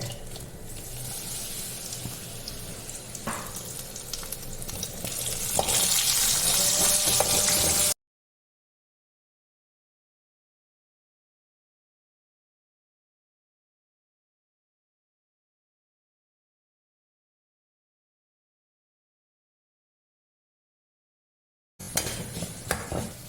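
Papadam and kondattam dropped into heated coconut oil give a steady sizzling fry with some stirring and utensil clatter, heard alone for several seconds before a long silent gap and a brief return at the end.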